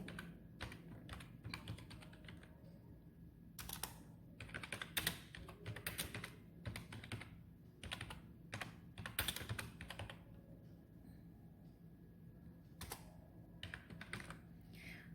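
Book title being typed on a computer keyboard: a steady run of quick key clicks in irregular bursts with short pauses, close and fairly quiet, no voices.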